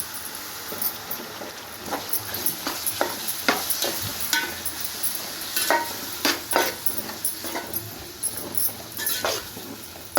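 Chopped tomato pieces frying in a hot pan with oil, a steady sizzle broken by frequent scraping strokes of a stirring spoon and light clinks against the pan, close and continuous.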